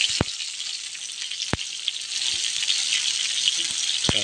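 Curry with tomatoes cooks in a pan, a steady bright sizzle up close with a few sharp clicks of a utensil against the pan and no talking.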